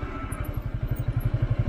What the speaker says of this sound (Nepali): यो त बाइक भयो होइन